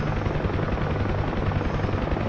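A Huey helicopter banking into a turn, its main rotor thumping in a steady rapid rhythm with dense engine and wind roar, loud and close throughout, no voices.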